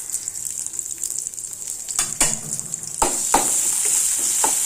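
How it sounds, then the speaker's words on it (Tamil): Vadagam fries in hot oil in a pan, a steady close sizzle broken by a few sharp stirring clacks, growing louder toward the end. "இந்த வடகம் நல்லா பொரியணும்"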